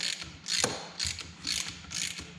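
Hand ratchet tightening the damper rod bolt at the bottom of a Kawasaki GPZ Turbo motorcycle fork during a rebuild, a close, crisp clicking in four even back-and-forth strokes with no talk.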